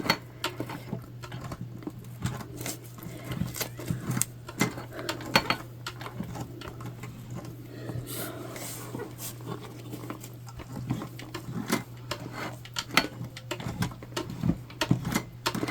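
A hand-cranked sewing machine stitches a tote bag, a rapid irregular mechanical clatter of needle strikes over a steady low hum, moderately close and continuing without speech.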